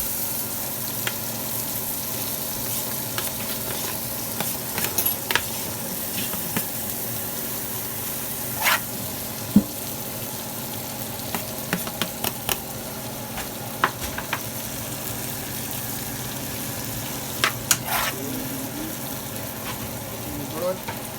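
Vegetables sizzle and fry in a pot, a steady crackling hiss with scattered pops and stirring clatter throughout, fairly close and continuous, with occasional talk over it.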